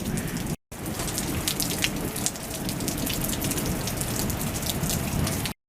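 Steady rain pours down on an outdoor park in New York, a dense continuous hiss of drops on surfaces that holds at an even level throughout, broken only by two brief cuts to silence near the start and end.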